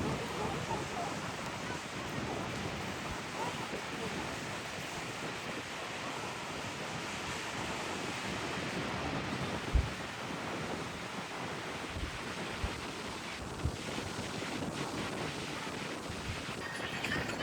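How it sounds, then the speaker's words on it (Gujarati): Strong wind roars across a beach alongside steady crashing surf, a loud continuous wash with gusting microphone buffeting and a few brief thumps. "પવન એટલો છે ને એટલે બહુ અવાજ આવે છે."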